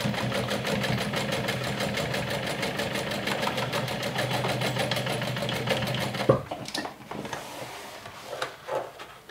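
A sewing machine stitches a bag seam with a steady, rapid rhythmic chatter, close and clear, then stops, leaving soft handling clicks and rustles.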